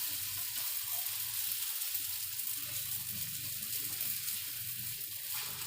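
Aloo paratha fries in plenty of oil in a pan, giving a steady close hiss and sizzle throughout with no talk.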